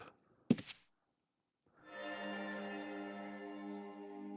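A ship's cannon fires once in the Ultima Online Outlands game, a single dull thump, followed after a pause by a steady, faint tonal hum that carries on to the end.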